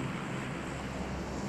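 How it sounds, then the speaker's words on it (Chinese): An airplane engine in a battle royale video game makes a steady, close-up drone for a brief moment, with no other sounds. "没有的话就开飞机进圈了。"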